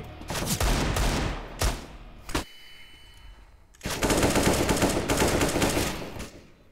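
Long sustained bursts of automatic AK rifle fire in the game CS:GO, loud and close, with a quieter pause before another extended volley.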